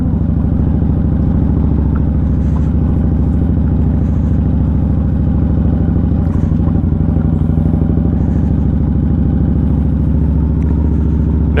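An Indian Scout Bobber motorcycle rides over rough off-road ground, its engine a loud, constant, close rumble with rattling and clatter from the bumpy terrain throughout.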